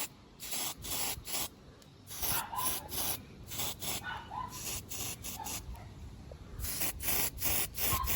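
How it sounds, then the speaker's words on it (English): Power sanding disc grinding down rusty welds on a caravan roof, a harsh abrasive hiss coming in repeated bursts of about a second with short pauses between passes, close and loud. "sanding all these welds down"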